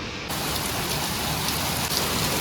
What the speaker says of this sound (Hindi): बड़ी मज़े की बारिश है